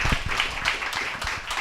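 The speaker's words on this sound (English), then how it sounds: "would you just give her one last round of applause?" An audience at a speaker-series talk applauds, giving a steady wash of many hands clapping at moderate distance and volume.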